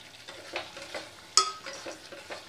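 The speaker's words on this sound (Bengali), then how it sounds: "দু মিনিট কষিয়ে নেবো মশলার সঙ্গে," Pointed gourd (potol) frying with spices in oil in a pan, soft sizzling under scattered scraping stirs, with one sharp clink of a utensil against the pan midway.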